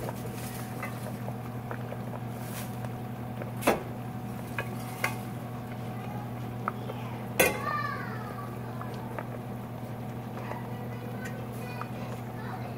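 Kale stirred into a boiling orzo fishermen's soup in a pot, with steady bubbling, soft scraping and a couple of sharp utensil clinks against the pot.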